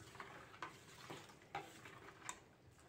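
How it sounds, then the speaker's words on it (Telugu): A yogurt and water mixture being stirred for a chilli marinade, with soft repeated scraping and light clinks of a spoon against the bowl, close and quiet, no talking. "బాగా కలిపేసుకోండి."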